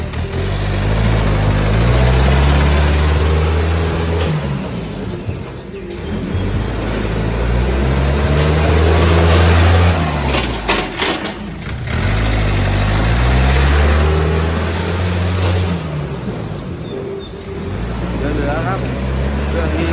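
The diesel engine of a used Yanmar EF 453T tractor rumbles steadily and loudly, its low throb rising and falling as it revs, while someone talks over it.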